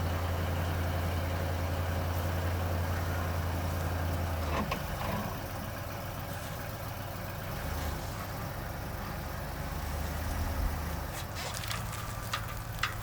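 A boat engine idles with a steady low rumble while the boat drives off a drive-on hitch mount, close and continuous, shifting slightly in tone partway through.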